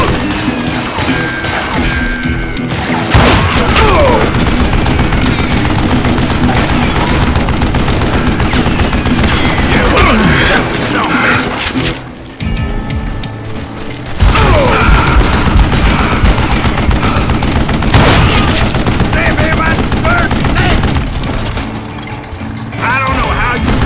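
Heavy gunfire in the Wild West shooter Call of Juarez Gunslinger: loud, nearly continuous volleys of shots and crashes with short lulls, rattling close throughout.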